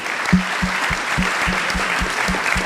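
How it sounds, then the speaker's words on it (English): Audience applause for panel members on the podium at a conference session: a wash of clapping with a steady rhythm of low thumps beating through it, fairly loud and even. "please give great applause to our members of the podium"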